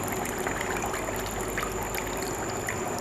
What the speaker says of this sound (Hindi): ऊंचा उठाने से उपकरण नंबर 1 का पानी नीचे वाले पानी में अपने आप ही चला जाएगा